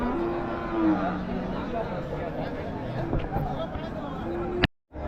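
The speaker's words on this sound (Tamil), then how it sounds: "ஸோ நல்லா காங்கைய மாடு சூப்பராக இருக்குது பாருங்கள்" Kangayam cattle at the busy Uthangarai cattle market, with a few drawn-out moos rising over a steady background of crowd chatter and market noise, while a person talks nearby.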